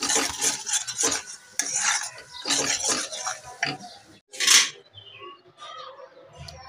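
A sweet milk and sugar mixture cooks in a pan like carrot halwa, stirred with a utensil in repeated close scraping strokes, then a brief clink and quieter stirring.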